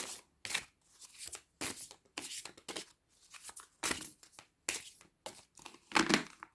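Tarot cards being shuffled, a run of crisp papery riffles and slaps in short irregular bursts, close and fairly quiet, with no voice over them.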